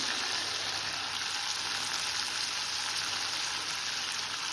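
Chopped vegetables frying in butter in a hot pan as filling for spring rolls, producing a constant, dense sizzle that holds steady from start to finish.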